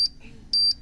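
A timer gives short, shrill electronic beeps, one at the start and a longer pair near the end of under a second, standing clear above quiet background noise.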